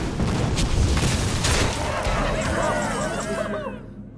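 Fire Elemental card played in Hearthstone, a heavy fiery boom and crackling burst under a commentator's talk, ending in a swirling magical shimmer that fades to quiet.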